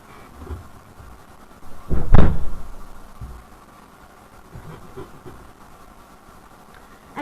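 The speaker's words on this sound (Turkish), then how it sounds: "Bir dakika kapıyı kapatmam lazım." A single door shuts with a dull thud partway through, heard once and nearby against low room noise, with no talking.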